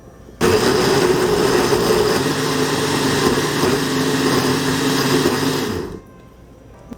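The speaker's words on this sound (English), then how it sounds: "we are going to puree that in our blender" A kitchen blender purees coconut sugar with other ingredients, switching on abruptly into a loud, steady whirring motor drone for about five and a half seconds before cutting off.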